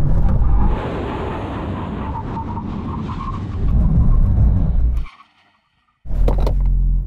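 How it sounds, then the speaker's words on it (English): A car braking hard from 100 mph in a stopping-distance test between a BMW M4 CSL and a Porsche 911 GT3: a loud, sustained road roar and tyre rumble that swells, then cuts to near silence before more rumble returns. "now we're going to do a brake test from 100 miles an hour"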